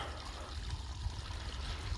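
Water pours steadily from above onto the ground right beside a house wall in freezing weather, a continuous close splashing trickle with no talk.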